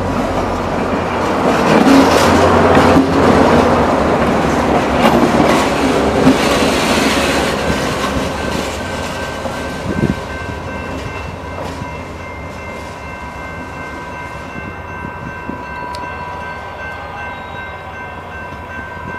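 Rail Runner commuter train passing close by, a loud rumbling roar with rhythmic clatter that gradually fades as the cars roll away, with no talking.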